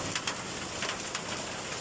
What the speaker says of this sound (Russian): Смотрите, какой град падает!